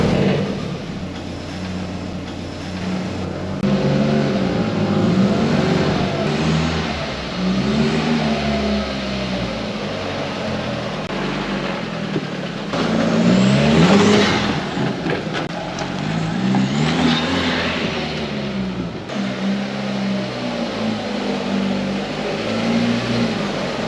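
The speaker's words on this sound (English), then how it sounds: "We've got the full exhaust system on, so I'll do a little tour around the yard." A Mk1 Caddy 20v turbo with a full exhaust system drives around a yard on a windy day, its engine note rising and falling through several revs with a raspy exhaust drone and wind rumble underneath.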